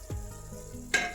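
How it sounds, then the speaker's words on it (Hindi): Finely chopped tomatoes hit a hot pan, a brief thump followed by a short burst of sizzling toward the end, with no talk. "अब हम इसमें बारीक कटे हुए टमाटर डालेंगे।"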